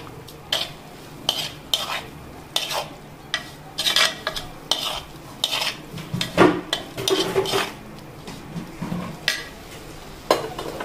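Spices and asafoetida get stirred in a metal pot for sambar, with a spoon scraping and clinking against the pot in repeated close strokes over a light sizzle, and no talk.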